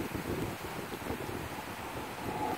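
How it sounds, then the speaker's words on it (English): Strong wind gusts outdoors near a playground swing, roaring and buffeting against the microphone in a continuous, rumbling rush with no voices. "Oh, it's so windy."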